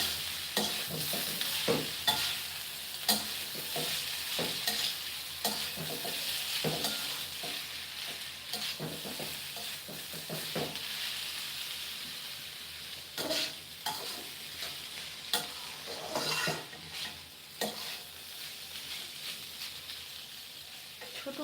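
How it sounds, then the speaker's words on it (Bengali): Small mola fish are stirred into a cauliflower-stem and cabbage curry in a pan, with repeated irregular scraping and clinking strokes over a faint steady sizzle, close-up and fairly quiet. "এখন মাছটা মিক্স করবো"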